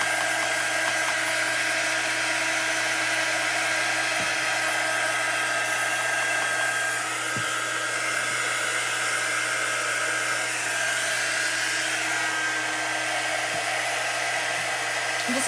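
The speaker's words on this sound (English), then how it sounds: "I'm just going to dry the sides because that's usually where I put most of my fingerprints" A handheld heat drying tool blows steadily on a chalk craft project, a continuous close, loud whirring hiss with no talking.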